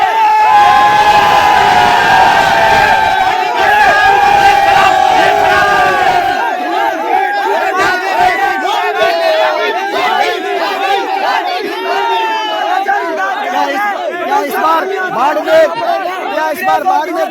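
A dense crowd at a Rajasthan election nomination rally for a candidate in Barmer, cheering and shouting continuously, loud and close, with raised voices and chants overlapping throughout.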